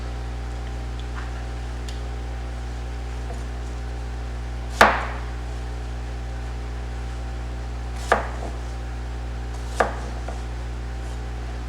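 Red Spanish onions are chopped with three sharp, separate knife strikes on a board, spaced a few seconds apart, over a constant low hum.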